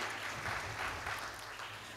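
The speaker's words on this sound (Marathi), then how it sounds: "जोरदार टाळ्या आपल्या मधुरासाठी." A crowd applauds at a book launch evening held at Lokmanya Seva Sangh, with soft, continuous clapping that stays faint and distant throughout.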